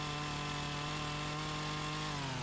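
A chainsaw in a farming simulator game on the Iowa Plains map runs at a steady high whine while cutting a tree, loud and continuous, its pitch dipping slightly near the end.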